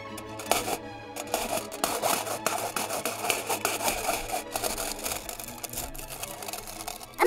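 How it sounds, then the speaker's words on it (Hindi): Aluminium foil stretched over a box and held with a rubber band, poked through with holes: a fast stream of small crisp taps and crinkles, close and fairly quiet, with a louder crackle at the very end. "तो मैं एक डब्बे के ऊपर एल्युमिनियम फॉइल को रख कर रबर से चिपका कर"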